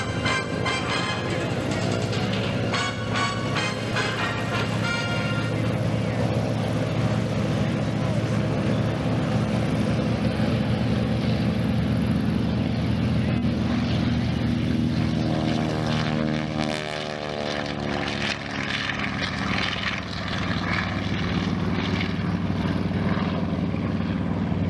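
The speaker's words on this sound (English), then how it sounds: "you can certainly hear that aircraft take off. This is the TBM Avenger." A TBM Avenger propeller aircraft takes off at an airshow, its loud piston engine roar droning steadily throughout and shifting in pitch as it climbs away.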